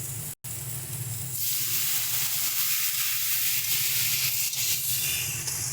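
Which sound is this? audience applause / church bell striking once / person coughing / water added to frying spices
water added to frying spices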